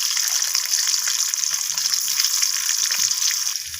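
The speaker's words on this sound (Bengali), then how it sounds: "এরপর ওই একই তেলের মধ্যে আমি সিদ্ধ করে রাখা আলুগুলোকে" Boiled potatoes go into hot oil left over from frying eggs, giving a steady, bright sizzle that holds evenly throughout with no talking.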